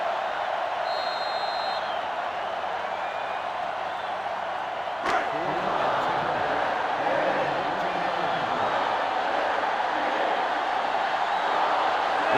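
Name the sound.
stadium crowd in NCAA Football 2005 video game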